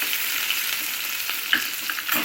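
Ginger and cashews sautéing in oil in a pan for venpongal, a steady close sizzle and hiss with a few soft stirring scrapes, no voices.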